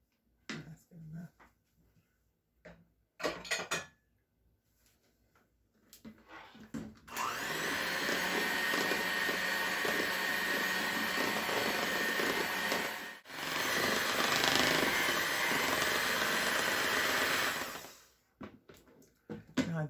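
An electric mixer beats red velvet cake batter in a loud, steady whirring run of about eleven seconds, briefly stopping once and then resuming, with short clatters and quiet kitchen sounds before and after.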